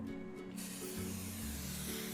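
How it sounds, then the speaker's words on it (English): A continuous hiss from an aerosol vegetable oil cooking spray greasing a cake pan, held close and steady throughout, with a faint low hum underneath. "take some vegetable oil cooking spray and lightly grease the pan"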